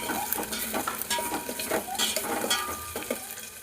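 Onion and garlic fry in a tempering for tomato sambar, giving a steady sizzle with repeated stirring scrapes and light utensil clinks throughout, close and moderately loud, with no talking.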